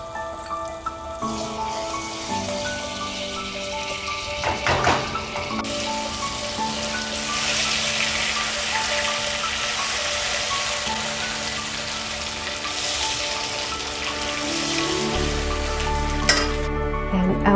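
Butter sizzling as it hits melting sugar in a pan for an apple tart, a steady hissing crackle that swells after a thud and carries on evenly, with soft background music and no talk.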